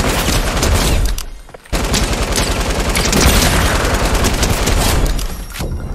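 Gunfire in Fortnite, a sniper rifle shot among a dense, loud run of rapid game shots and booms during an OG season squads match, with a brief lull midway before the firing resumes.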